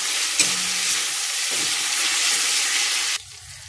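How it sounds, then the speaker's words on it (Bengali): Onion and tomato fry for a chicken curry, a loud steady hissing sizzle that cuts off abruptly near the end, leaving quiet room tone. "পেঁয়াজটা আমার লাল লাল করে ভাজা হয়ে গেছে আর টমেটোটাও খুব তাড়াতাড়ি গলে গেছে"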